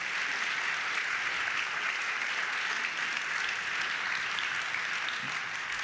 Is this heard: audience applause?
yes